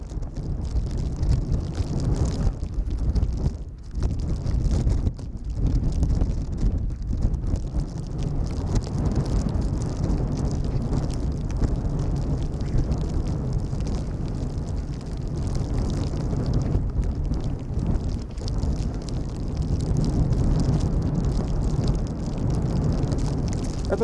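Strong, gusty wind at Schiphol Airport during a storm, sustained near 25 knots with gusts over 30, roaring and buffeting steadily across the microphone for the whole stretch, with no voices over it.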